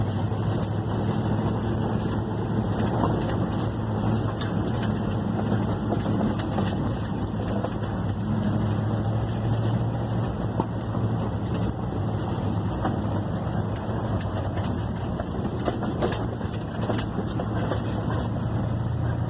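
A 1972 Ford F100 pickup truck with tuning problems drives along, a steady low engine drone and road rumble heard from inside the cab at moderate loudness, with no talk.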